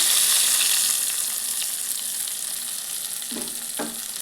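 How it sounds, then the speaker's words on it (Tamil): Mustard seed tempering sizzles loudly as it is poured into a spicy chutney, a bright steady crackle that eases slightly, with two short clunks of utensils near the end. "இப்போ இந்த தாலிப்பை சட்னியில் சேர்த்துக்கலாம்"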